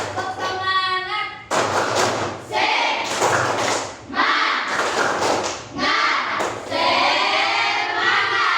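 A school class in Indonesia performs a rhythmic spirit clap, with repeated bursts of group clapping and chanting mixed with children's voices and a teacher talking at the start.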